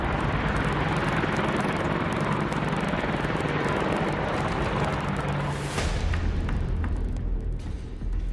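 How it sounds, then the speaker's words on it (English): A pair of Apache helicopters roar loudly and steadily with a dense whirring rotor drone, the sound shifting and deepening as they lift away. "On the ground, a pair of formidably armed Apache helicopters lifts off."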